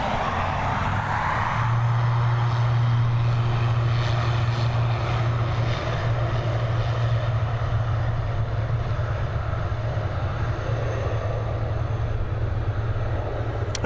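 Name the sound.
departing airliner, likely Airbus A330, at Dublin Airport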